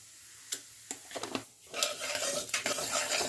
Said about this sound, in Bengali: ফোড়নটা একটু নাড়াচাড়া করে নিচ্ছি